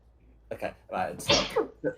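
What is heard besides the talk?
sneeze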